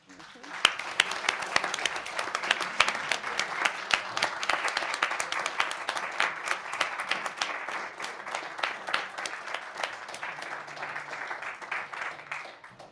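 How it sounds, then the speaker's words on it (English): Audience applause fills a school board of education meeting room, a dense patter of many hands clapping for graduating student leaders, steady for several seconds before thinning slightly near the end. "if I can just give a round of applause to these brilliant young leaders"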